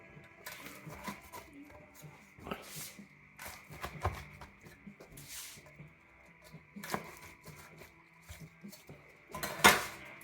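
A big knife or cutter slices a Chicago deep dish meatball pizza in its metal pan, giving sparse scraping and clinking strokes against the pan, faint and close, with a sharper metallic clank near the end.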